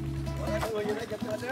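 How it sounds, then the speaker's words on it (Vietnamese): A simple wooden riverboat's engine revs up, a steady low droning hum that is briefly clear and then runs on beneath a person talking. "Sau khi quay đầu xuồng, chú cho máy nổ lớn."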